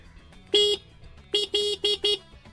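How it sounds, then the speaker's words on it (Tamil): An OLA S1X+ electric scooter horn honks close by: one longer toot, a pause, then four quick toots in a row, each bright and buzzy. "நல்லா இயரபிள் ஹாரன் தான் கொடுத்துருக்காங்க."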